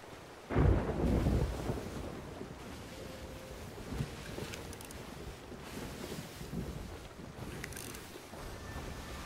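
Stormy open sea in Sea of Thieves, a loud low rumble of thunder bursting in near the start over steady roaring wind and crashing waves, with a wooden single-sail ship creaking through the squall.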